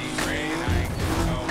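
Toyota Supra racing in Need for Speed Most Wanted, with a steady loud engine drone and tire noise through a short burst of game driving, no talk.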